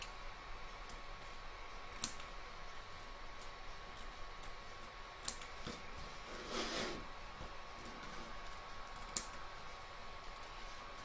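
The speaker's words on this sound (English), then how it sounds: "So I'm now going to trim up my excess batting." Scissors trimming excess quilt batting around a machine-embroidered placemat in the hoop: faint, sparse snips and clicks against quiet room noise, with one brief louder rustle midway.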